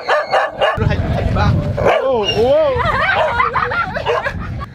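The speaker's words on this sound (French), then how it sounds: "il a failli se faire attaquer par les chiens" Several dogs bark and yip excitedly at close range during an outdoor photo outing in Africa, with overlapping barks and whines and people talking over them.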